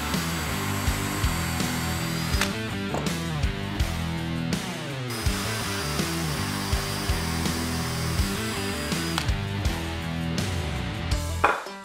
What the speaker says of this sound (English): Now it's secure and stable for us to drill our 5/16 hole.